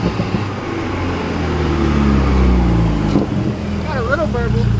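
Low, rumbling exhaust burble from a BMW F31 wagon fitted with a CTS catted downpipe, a steady throaty drone that swells slightly midway with a sharp crackle near the end, while someone speaks over it briefly.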